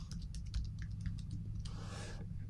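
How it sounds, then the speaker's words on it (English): Quick keystrokes rattle on a computer keyboard while a spreadsheet formula is typed, a steady run of light clicks over a low background hum. "let's start typing our formula, equals sumif"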